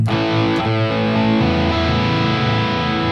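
An electric guitar runs through a Harley Benton DNAFX Git Pro amp model with reduced gain, giving a dense, saturated chord strum that rings on continuously and loud, with no talking.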